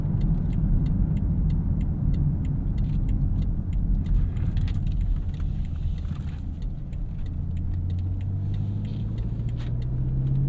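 2017 BMW X6 M driving on the road, a steady low engine rumble with tire and wind noise from inside the cabin, and a rising tone near the end as the engine climbs toward a gear change.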